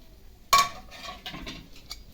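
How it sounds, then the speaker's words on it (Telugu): Cashews go into ghee in a metal pan for wheat halwa: a sharp clatter as they land is followed by soft scraping, light metallic clinks and a faint, low sizzle, with no one speaking. "జీడిపప్పు వేసి వేయించుకోవాలి."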